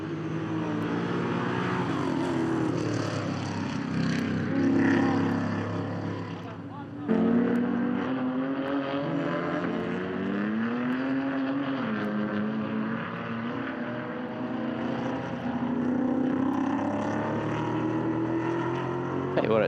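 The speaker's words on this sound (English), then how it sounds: "It sounds good for a car on 7 cylinders." A race car in a production car endurance race, its engine running on seven cylinders, drones and shifts pitch continuously at moderate distance under commentators' voices.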